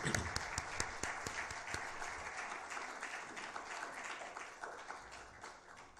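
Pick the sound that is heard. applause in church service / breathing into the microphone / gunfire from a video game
applause in church service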